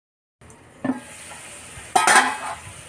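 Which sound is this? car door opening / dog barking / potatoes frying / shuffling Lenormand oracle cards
potatoes frying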